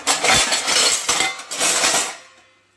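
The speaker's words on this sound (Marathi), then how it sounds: "अजून ही भांडी मांडायची आहेत" Metal pots and pans, one holding a pressure cooker, clatter and clink as they are stacked and arranged in a home kitchen, in three loud bursts of ringing impacts before fading out.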